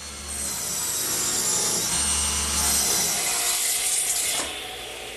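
A power saw cuts strips of wood from a 2x4, making one continuous, loud, close rasp that lasts several seconds and then drops away.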